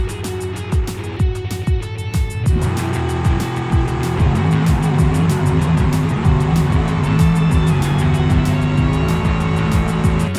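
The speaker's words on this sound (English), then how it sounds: "See it run pretty good until about the second gear shift" A Grand Marshal drag race car makes a full-throttle pass, its engine roaring loud and close with a rising pitch through repeated gear shifts and a dense crackle running through the whole run.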